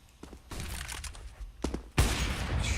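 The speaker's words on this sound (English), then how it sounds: "good shot from Blade. Right anticipation, but misfired" Gunfire in the video game CS:GO during a PGL Major Qualifier match, a close burst of rapid shots and impacts followed by a louder noisy blast, with no speech.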